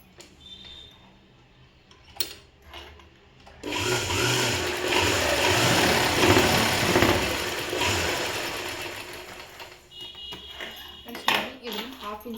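A sewing machine runs in a loud, steady burst for about four seconds while stitching the folded half-inch hem of a school uniform, with quieter handling clicks and rustles before and after.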